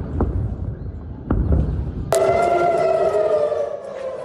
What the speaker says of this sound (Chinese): 以色列台拉维夫周四再度响起空袭警报